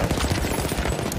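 A rapid, continuous burst of machine gun fire aimed at an aircraft in Battlefield, dense and loud, filling the whole brief moment without talk.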